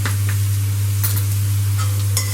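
Chicken fried rice sizzles in a pan as it is stirred, a steady frying hiss with a low hum beneath and a few brief scraping stir sounds, no talking.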